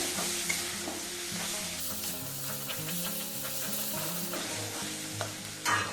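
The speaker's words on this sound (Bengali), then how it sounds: "এবারে এইটা ভালো করে কষে নেব যতক্ষণ এর থেকে তেল ছাড়ছে" Spice masala stirred and fried in oil for a raw banana kofta curry, with a steady loud sizzle and repeated scraping stir strokes throughout, no talking.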